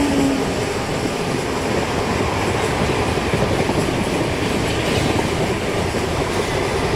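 The Sri Jagannath Express, running from Puri to Shalimar in Train Simulator, gives a loud, steady rumble of wheels and engine, a dense continuous roar with faint rhythmic clatter and no pauses.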